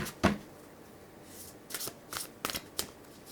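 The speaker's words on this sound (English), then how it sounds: "I want them shuffled." A deck of tarot cards is shuffled by hand: one crisp riffle burst, then a cluster of quick papery flutters close by, with no voices.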